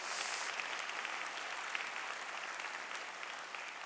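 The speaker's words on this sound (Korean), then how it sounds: "우리 허이호 장로님, 오늘 예배 참석하셨는데 잠깐 일어나시면 우리 박수로 한번 격려해 드리겠습니다." A church congregation applauds in encouragement during a Sunday worship service, a steady, dense wash of many hands clapping that holds evenly throughout at moderate level, with no voices standing out.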